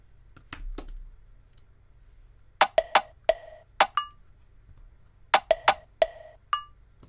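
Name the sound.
percussion from Logic's Drum Machine Designer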